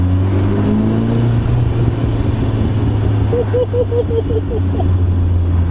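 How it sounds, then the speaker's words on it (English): A Ford RS Turbo car drives along with a steady, loud engine drone and road noise throughout, pottering at modest speed with a few brief tonal squeaks near the end. "Oh, I've missed the sound of this car, I tell ya."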